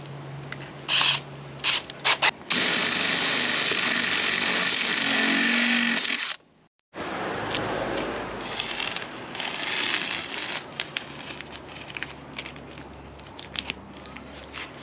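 A power drill cutting holes in a vehicle body panel while a Safari snorkel is fitted: a long loud whirring bore, a short pause, then more grinding and scraping of tool on metal, close up with no talking.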